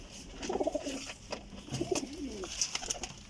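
White Rampuri pigeons coo nearby in two rolling, throaty phrases, with light wing or cage rustles between them.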